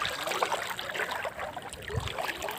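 River water trickles and laps around a bamboo raft midstream, a soft, close, irregular gurgling and splashing with no talk.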